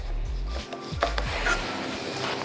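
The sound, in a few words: knife cutting curly red chilies in half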